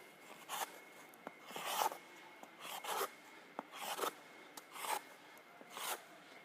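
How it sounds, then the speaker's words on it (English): A hockey skate blade shaves the ice surface in short repeated scrapes, about seven hissing strokes in a steady rhythm, each quick and fairly faint, with no talking in between. "just simply shave the ice like this"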